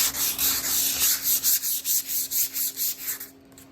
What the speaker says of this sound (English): so I'm going to sand everything and hopefully smooth it just by hand and stuff